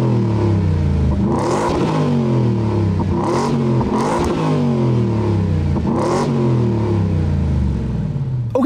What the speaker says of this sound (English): Take a listen to it in sport mode.